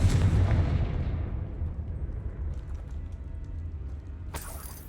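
A Confringo spell explodes in Hogwarts Legacy as a heavy, booming blast with a long rumbling decay that fades over several seconds, then a short bright burst of a following effect.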